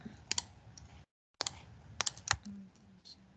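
Clicks and keystrokes come from a computer mouse and keyboard in a quiet room, sharp isolated taps in small irregular clusters, close and faint, broken by a brief silence.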